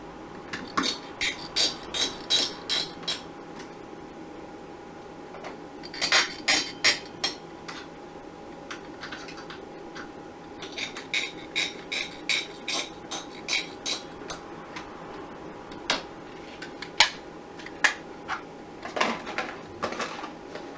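Screws being driven and tightened while building a business PC: faint, irregular bursts of small metallic ticks and clicks in quiet clusters, with pauses between.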